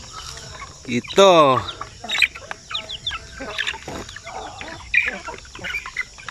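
Chickens on a farm clucking, with a rooster-like squawk rising sharply near the start, followed by scattered clucks and cackles at close range, plus a brief spoken word.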